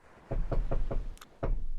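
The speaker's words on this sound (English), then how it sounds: "Knocking with his fucking katana again?" Knocking on a door, four evenly spaced solid knocks followed by a short pause and one more knock, close and loud with no talk.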